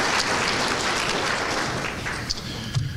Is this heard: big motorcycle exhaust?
no